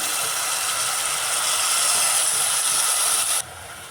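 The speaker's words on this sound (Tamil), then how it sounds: "அந்த புளி தண்ணியை இதில் சேர்க்குறேன்." Tamarind water poured into a hot pan of simmering kuzhambu gives a steady, loud, bright hissing sizzle that holds for several seconds, then drops off sharply near the end.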